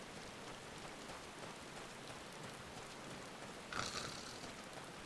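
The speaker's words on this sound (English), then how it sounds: "I love the rain sound effects in this game." Steady rain patters over a town setting in Final Fantasy XIV, a soft even hiss of falling drops that swells slightly near the end, with no voices.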